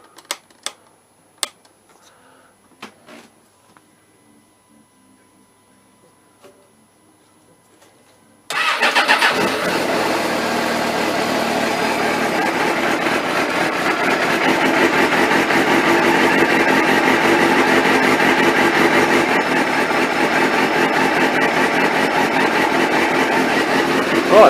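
A Suzuki GSX-R 600 motorcycle engine turns over after a few quiet clicks and taps, catches abruptly, and settles into a steady, loud idle that holds continuously to the end.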